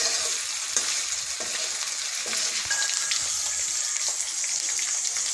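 Chopped tomato sizzles in hot oil with spices, a loud, even crackle and hiss close by with occasional stirring scrapes, and no voices.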